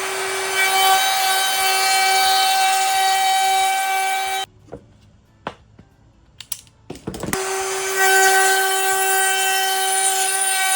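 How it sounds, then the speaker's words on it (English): A router with a template bit cuts a handle opening in a wooden cornhole board frame, a loud, close, steady whine that stops briefly amid small knocks and then resumes at full pitch. "use my template bit, route this out"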